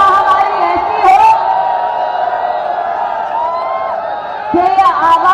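A political rally crowd welcoming a chief minister roars and whoops loudly, a dense sustained wall of voices with shouts rising at the start and end.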